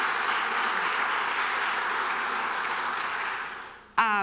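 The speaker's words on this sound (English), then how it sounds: "let's clap for that" An audience at a community gathering claps steadily for about four seconds, moderately loud, fading out just before a voice comes in at the end.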